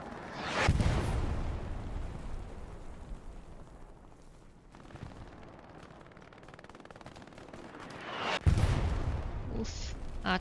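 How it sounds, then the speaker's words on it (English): Artillery strike explosions in the video game Hell Let Loose, with two loud, heavy blasts several seconds apart, each followed by a long rumbling decay and scattered distant booms in between. "Oof, artillery strike."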